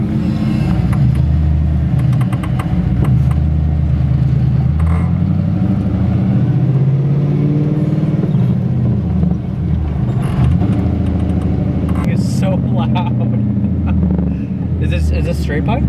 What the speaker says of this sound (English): So a V8 fully straight piped car is extremely loud